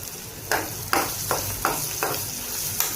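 Turmeric frying in hot oil in a pan for an eggplant cashew curry, a steady sizzle broken by several short scraping stirs at irregular intervals.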